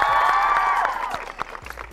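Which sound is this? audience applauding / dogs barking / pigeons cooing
audience applauding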